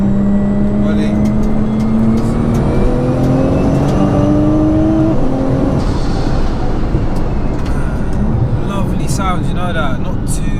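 An 1100bhp Nissan GT-R on its street exhaust accelerates hard, engine note climbing steadily through the gears as a loud, close, continuous roar with a shift partway through, and wind and road noise filling in behind.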